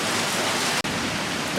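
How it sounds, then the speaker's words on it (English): Summer rain falls steadily as an even, hissing wash of drops, continuous throughout with one momentary break, no voices. "it is raining."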